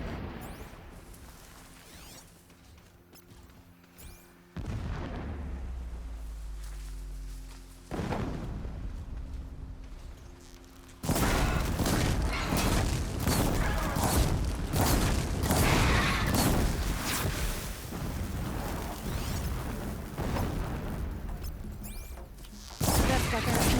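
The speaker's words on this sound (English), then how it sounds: "explosions in the distance" Distant explosions in Horizon Zero Dawn Remastered: deep, muffled booms and thuds roll in over the game's ambient soundscape, with a few sharper blasts and voices speaking at times.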